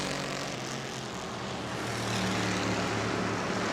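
Race cars roaring around the oval at New Smyrna during a battle for third place, a steady loud blend of engine drone with shifting harmonic whine, no voices.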